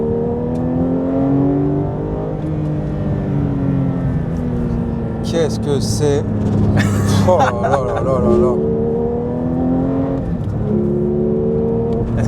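A sports car's engine revs and climbs in pitch while driving, a steady loud drone whose tone rises and falls, with excited French-speaking voices exclaiming over it.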